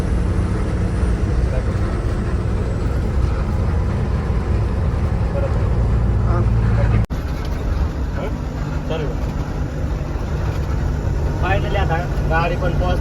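A cotton-laden truck rumbles along on the road to Gujarat, its engine a constant low drone with road noise, while someone talks over it in the cab.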